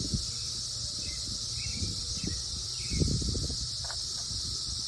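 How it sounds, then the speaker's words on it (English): A 17-year periodical cicada brood, the Bourbon Brood, fills Kentucky with a dense, unbroken, shrill buzzing chorus that drones steadily and loudly throughout, with faint rustling underneath and no speech. "we in Kentucky are in the middle of a giant cicada brood called the bourbon brood"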